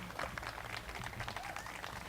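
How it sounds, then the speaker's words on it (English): An audience applauds a musician after his 1920s music at a Clarence Darrow statue dedication, a steady wash of clapping lasting a couple of seconds at moderate volume. "Please give him a round of applause."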